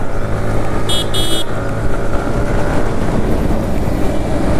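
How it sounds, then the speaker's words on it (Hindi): A motorcycle pushed to top speed on an open road: a loud, unbroken engine and wind roar close up, with a brief high toot near the start and no talk. "अभी देखते हैं अपनी बाइक कितनी टॉप स्पीड पर भागने वाली है।"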